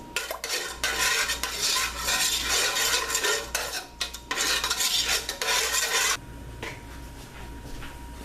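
A spoon stirs spaghetti sauce seasoned with tablespoons of added spice in a pan, a steady close scraping and swishing that runs for about six seconds, then eases into quieter, softer stirring.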